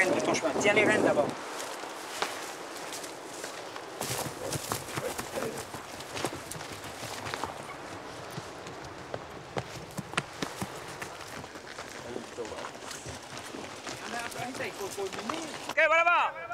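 Horses are readied with reins on the Marquesas high plateaus in Polynesia, their hooves thudding and clopping in scattered, uneven steps close by over a steady outdoor background.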